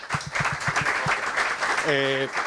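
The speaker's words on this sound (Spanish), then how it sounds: "Un aplauso para ellos, por favor." Brief applause from a round-table audience at a summer event, dense clapping that ends as a voice begins speaking over it.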